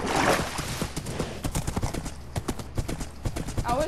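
Horse galloping in Minecraft, a loud, fast run of sharp hoof clops in quick succession, close and continuous, with no talking.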